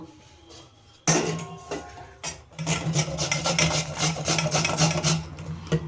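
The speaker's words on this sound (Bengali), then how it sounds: "আমি আলুটাকে গ্রেটারের সাহায্যে আমি গ্রেট করে নেব" A peeled potato rubbed over a metal grater, starting with a sharp rasp after a quiet moment, then steady, close, repeated scraping strokes that continue to the end.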